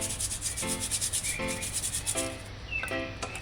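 A brush scrubs a plant stem clean for herbal tonic preparation, in close, rhythmic strokes with short scratchy bursts about every second, and no talk over it.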